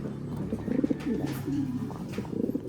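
Racing pigeons coo as they pair up, a close sequence of soft throaty burbling calls repeated over a few seconds.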